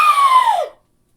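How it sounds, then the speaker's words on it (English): A woman's scream in the dead of night, loud and close, holding a strained pitch before sliding downward and cutting off abruptly into silence. "an eerily familiar scream"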